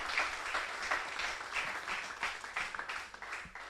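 An audience at a season-finale event for a women's football team applauds three players, moderately loud scattered clapping with uneven bursts across the short span.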